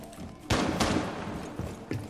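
Gunfire in the tactical shooter Rainbow Six Siege during a ranked match: a loud shot burst, then a second, followed by ringing and scattered fainter shots, with background game noise throughout.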